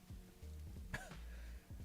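A single person coughs once, short and fairly quiet, amid low background hum.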